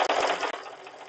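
A sewing machine runs steadily in a rapid mechanical whir, with brief pauses, close up, while a drag-race quilting project is stitched and the bobbin runs low.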